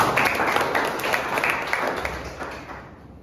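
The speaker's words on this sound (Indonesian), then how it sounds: "tepuk tangan buat Aska." Applause from pupils in a classroom, short and moderately loud with dense claps that fade out after about three seconds.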